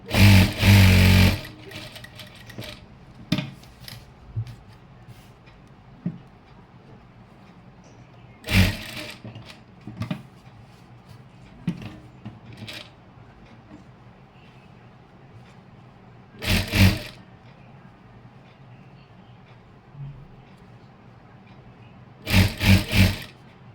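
An electric sewing machine stitches along the folded edge of a chudithar pant in four short, loud whirring bursts, with quieter cloth handling in the pauses between.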